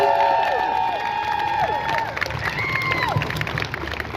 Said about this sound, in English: Big round of applause for Siobhan, please!